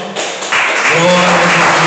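A church congregation breaks into dense, sustained clapping that swells loudly within a couple of seconds, with voices audible underneath.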